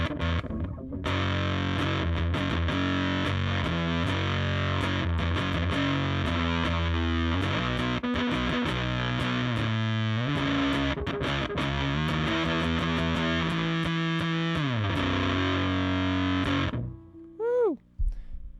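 An electric guitar played through the Black Pedal distortion pedal, giving a thick, sustained, high-gain tone. Chords and notes ring loud and continuous for most of the passage, then break into a few closing bends and squeals.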